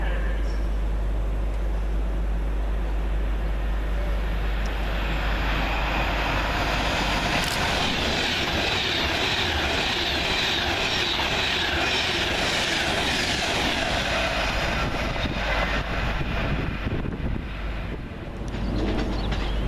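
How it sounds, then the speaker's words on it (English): A Class 390 electric train, unit 390-112, speeds through Watford Junction station on the southbound Manchester Piccadilly to London Euston service, a loud, steady rush of wheels and air that lasts throughout and fades slightly at the end. "Next southbound working now as 390-112 flies through"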